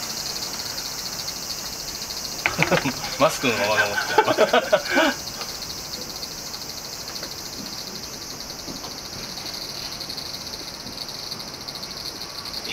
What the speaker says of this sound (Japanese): セミの声とともに。